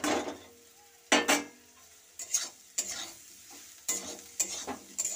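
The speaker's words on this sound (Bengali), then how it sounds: "ভালো করে আমি এবার মশলাগুলো দিয়ে এইভাবে কষাতে থাকবো।" Spices with turmeric and chili powder stirred in a hot pan, soft sizzling broken by sharp irregular scrapes and clinks of a utensil against metal, close up with no talk.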